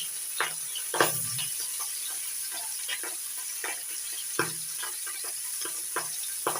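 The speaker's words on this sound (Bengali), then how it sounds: "বোয়াল মাছের মাথা নুন হলুদ আর একটু সর্ষের তেল দিয়ে মেখে ভেজে নেব" A boal catfish head, rubbed with salt and turmeric, fries in mustard oil in a kadai over a gas flame, giving a steady close sizzle with a few sharp clinks and stirring knocks.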